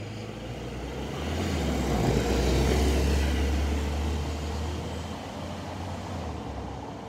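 A Ferrari GTC4 Lusso pulls away with a loud, low engine rumble that swells to a peak and then fades steadily as the car moves off into the distance.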